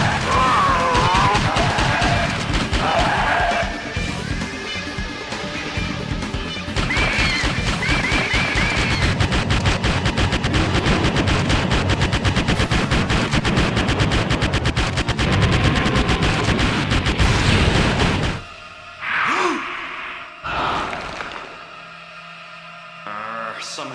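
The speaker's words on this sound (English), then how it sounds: "Shotgun!" Shotgun fire in the arcade horror shooter Crypt Killer on the Saturn port, with rapid, dense blasts and chaotic game noise that run loud and continuous for most of the clip, then give way to sparser effects.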